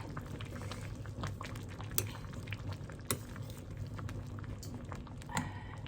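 Bamboo shoot curry bubbling in a pot, a steady low simmering burble with scattered small pops and splutters, close and fairly quiet, with no talking.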